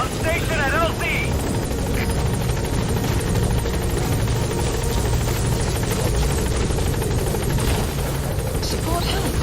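A support helicopter called Pequod arrives at a landing zone in a video game. Its rotor drones loud and close without a break throughout, with a short electronic chirp near the start.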